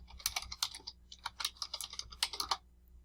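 Someone types on a computer keyboard in bursts of quick, close clicks and key taps, entering a title for a word-processing document, with short pauses between runs of keystrokes and no talking.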